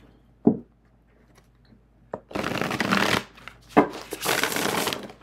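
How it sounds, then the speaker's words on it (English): A tarot deck being shuffled by hand, its cards riffling and slapping in two long bursts after a few single taps, close and fairly loud with no talking. "So I wouldn't call this difficult to shuffle"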